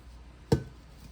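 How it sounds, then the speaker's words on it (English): A single sharp knife chop on a board as salmon and shrimp are cut for seafood soft tacos, one close, crisp stroke against a quiet room. "The shrimps, I cut in 2."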